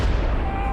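A cartoon dynamite explosion in an animated Piggy Tales short bursts out as a deep, rumbling boom that fills the short moment and trails off into low roaring.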